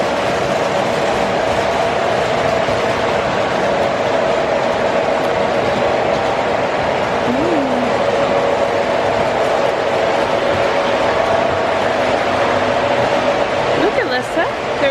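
Train at the Sioux City Railroad Museum, a continuous loud rumbling roar with a steady mechanical hum, staying even throughout as it comes close, with a faint squeal near the end.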